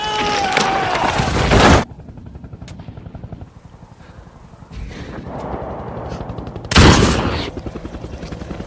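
A sniper rifle in an Iraq war film lets off two loud, booming shots that crack and roll away, with a steady rhythmic mechanical drone filling the gap between them.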